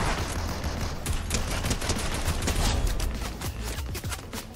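Bursts of automatic gunfire in Fortnite crackle continuously and loudly, with rapid overlapping shots filling the short stretch and no talking.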